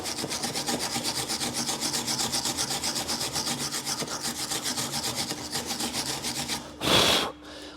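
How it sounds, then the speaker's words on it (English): A wire brush scrubs rapidly back and forth on a metal brake caliper carrier from a Renault Trafic held in a bench vise, a steady close rhythmic rasping that ends with a short louder scrape. "With a wire brush, because we want this surface in here to be flat and free of debris."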